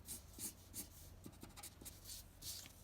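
Pencil shading strokes on paper while building up skin tones in a drawing, a series of soft, close scratchy rubs repeating about twice a second, quiet and alone.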